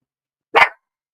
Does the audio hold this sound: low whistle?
no